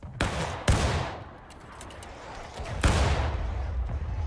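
Musket volley fire in the Civil War game War of Rights, several sharp cracking gunshots with rolling echoes, a close pair near the start and another heavy burst later, over a continuous background rumble of distant firing.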